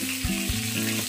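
A pan of frying for egg curry gives a short burst of steady, close sizzling with a low hum underneath and no voices.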